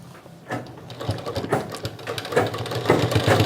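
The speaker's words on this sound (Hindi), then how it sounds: "इलास्टिक के ऊपर जब आप सिलाई देते हैं तो इलास्टिक को अच्छा से खींचने पड़ता है।" A sewing machine stitches over stretched elastic on sharara pants, running in short uneven bursts of rapid mechanical clatter at close range.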